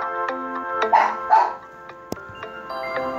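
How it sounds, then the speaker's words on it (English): A dog barks twice in the distance, short sharp yaps heard over steady game music. "my dog is barking, and it's annoying me."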